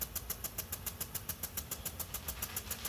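An old Weathermatic K50WPC 3/4-inch pop-up spoon-drive impact rotor sprinkler with a 5/32-inch nozzle runs steadily, its sharp hissing ticks repeating in a fast, even rhythm over a low rushing water sound.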